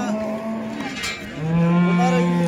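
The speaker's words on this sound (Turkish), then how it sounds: "Bir inek, iki tane inek var." Cattle at the Yıldızeli livestock market moo loudly and close by, with two long, drawn-out lowing calls one after the other and no speech.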